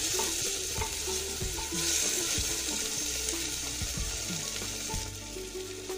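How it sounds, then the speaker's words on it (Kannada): Chopped fenugreek leaves frying in a pan sizzle steadily and loudly throughout, broken by repeated scraping and knocking from a stirring spoon, with no voice. "ಅದನ್ನು ಕೂಡ ಹಾಕಿ ಚೆನ್ನಾಗಿ ಫ್ರೈ ಮಾಡ್ಕೊಳ್ಳೋಣ."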